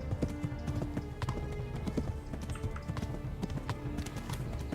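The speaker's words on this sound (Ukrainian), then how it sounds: "я навчився їздити на коні" Horse hooves clip-clop in a steady walking rhythm while riding in Kingdom Come: Deliverance, close and clear with repeated knocking steps, accompanied by light ambient game sounds and no talk.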